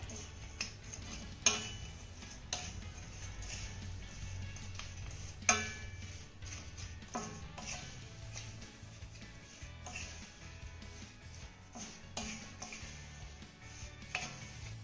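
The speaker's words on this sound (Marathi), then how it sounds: "घातलेला गुळणा अगोदर आपण चांगला मिक्स करून घेऊयात" Chopped jaggery being mixed into steamed lemons, heard as quiet, irregular clinks and scrapes of a spoon against a pot, with a couple of sharper taps standing out, faint throughout and without speech.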